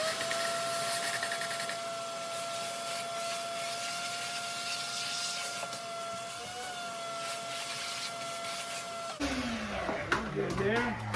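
A shop vacuum hums steadily and close in a garage during drill work on a broken LS exhaust manifold bolt, a loud continuous whine that cuts off near the end, followed by a clatter of tools.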